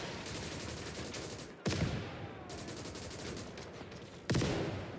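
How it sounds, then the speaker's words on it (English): Artillery fire in the WWII strategy game Call to Arms: Gates of Hell, two heavy booming impacts over a constant backdrop of rattling battlefield gunfire, loud and dense without clear talk. "That artillery is insane."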